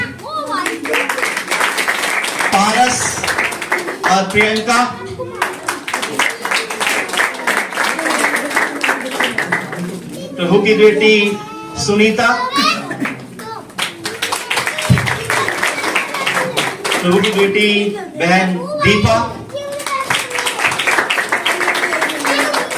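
Audience clapping for Christmas drama cast members as they come forward, a continuous patter running under a loud announcer calling out names over about twenty seconds.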